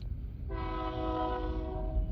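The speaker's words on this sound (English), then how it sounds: "who knew the train was going to be coming by while I was doing the video?" A passing train sounds its horn, a loud sustained blast that begins abruptly about half a second in and holds steady over a continuous low rumble of the rolling train, with no talking.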